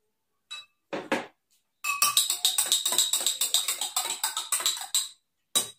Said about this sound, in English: Now I am adding some turmeric in water.